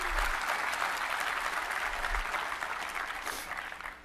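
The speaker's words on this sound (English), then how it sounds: "Now you can clap." Audience applause at a Microsoft Enterprise Mobility + Security presentation, a dense, steady wash of many hands clapping that fades slightly toward the end, with no talking over it.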